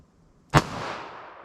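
A single sharp .22 Magnum shot cracks out close and loud during a ballistic test, its report trailing off into a long, decaying echo.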